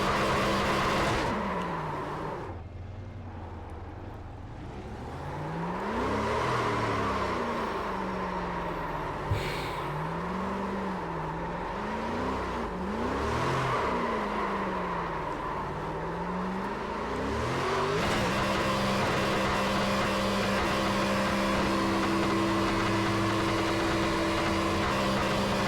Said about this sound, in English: And then we're gonna have some burnouts here, because of course, we got to do some donuts.